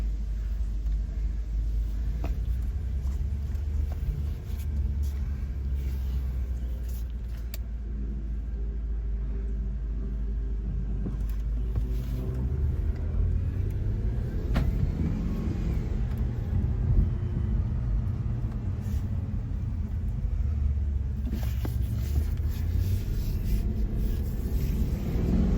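Audi A6 4.2 Quattro with a newly replaced high-pressure fuel pump, heard from inside as a steady low engine rumble swells under acceleration, continuous and fairly loud throughout with no talk.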